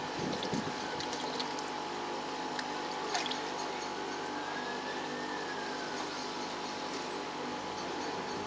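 Liquid pours steadily into pond water, a soft continuous splashing trickle over a low mechanical hum, with a few brief clinks.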